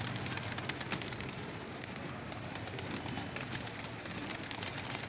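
A Kalsari female pigeon among other pigeons coos faintly under a steady wash of hiss and outdoor noise, with no voices.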